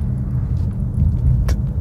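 A BYD Seal U DM-i plug-in hybrid, 218 HP Comfort trim, accelerates with a steady low road rumble that swells slightly toward the end, with no voices.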